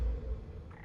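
A short, deep croak from a Barking Toad creature in an animated Warhammer 40k parody, a single low, rough burst lasting under a second, loud and close with no talk.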